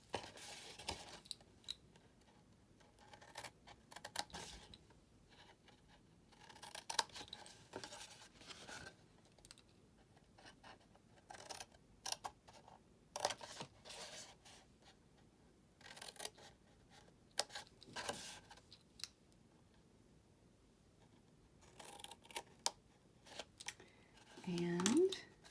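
Scissors snip into paper card along a score line while making a gift card box, giving short, intermittent cuts and rustles that are quiet and close, spread between stretches of talking.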